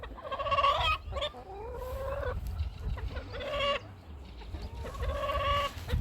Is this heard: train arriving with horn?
no